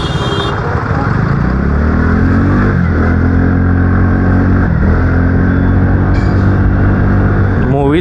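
A Yamaha FZ motorcycle with a worn, failing engine that needs an oil change runs on a road, its loud, steady engine drone rising and falling in pitch as the rider revs it.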